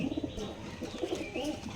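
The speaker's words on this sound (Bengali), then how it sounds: "এই যে এটা একটা জোড়া কবুতর" Paired Giribaz pigeons coo softly in low repeated bursts, several rounds of cooing over a steady background hum, close by with no talk.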